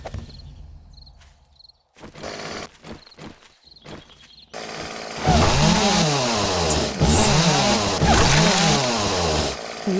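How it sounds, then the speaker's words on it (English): A chainsaw revs loudly against zombies in a survival video game, its harsh buzzing engine roar rising and falling in repeated bursts over the second half after quieter footsteps and clatter. "We use this chainsaw on zombies as well."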